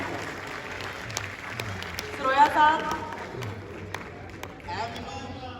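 Crowd applause and clapping at a Punjabi boliyan show during Jashan-e-Punjabi 2025 in Lahore, a steady mid-level wash of hands with a brief swell midway, while someone speaks over it.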